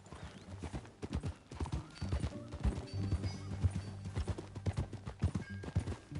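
Hooves clip-clopping at a steady trot with heavy thuds, a horse snorting and whinnying close by, no talking, in the video game Red Dead Redemption 2.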